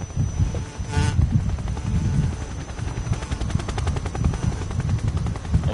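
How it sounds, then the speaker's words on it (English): A Russian helicopter in the video game Metal Gear Solid 3 Snake Eater gives off a loud, steady rotor drone that turns into a rhythmic, rapid chopping pulse, with no talking. "A Russian chopper?"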